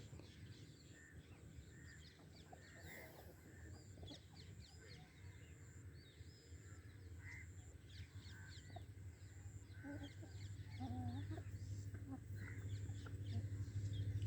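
A laying hen clucks intermittently nearby, soft and faint, over a low steady background hum.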